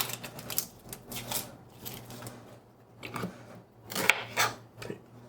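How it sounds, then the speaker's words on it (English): A yellow onion being peeled and cut into wedges on a board, a handful of sparse close knife taps and crisp crackles with quiet gaps between. "cut it into fairly large, like wedges, like so, and into the bowl"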